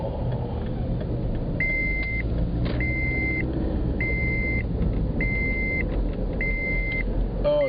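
Inside a taxi, a series of five evenly spaced electronic beeps sounds over the steady low rumble of the running car, each tone clear and flat, with no talking.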